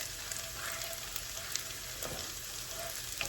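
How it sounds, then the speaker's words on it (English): Shallots soften in a pan over lowered heat, giving off a steady, quiet sizzle that carries on evenly with no talking. "we're going to cook it for just a couple of minutes until the shallots get soft"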